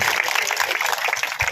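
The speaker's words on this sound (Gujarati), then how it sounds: "તાળીઓના ગડગડાટથી આપણે આ દીકરીનું અભિવાદન કરીશું" Applause for a student being honoured at a community award ceremony of a Rajput society, a dense steady patter of many hands clapping throughout, loud and continuous with no pauses.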